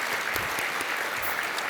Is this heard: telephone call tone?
no